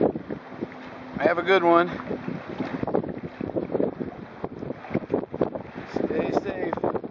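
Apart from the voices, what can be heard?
wind gusts while kayak sailing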